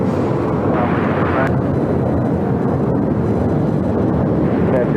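A heavy jet airliner takes off from runway 25 right, producing a loud, steady broadband roar that rumbles on without a break.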